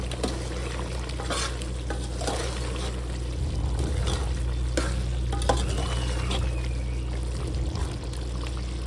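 A spoon stirs chicken curry in a pot after salt goes in, a steady scraping and soft bubbling sizzle running continuously at close range with no voices.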